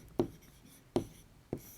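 A pen or chalk writing an answer for a class exercise, three short distinct tapping strokes spaced about a second apart, close and quiet with no talk.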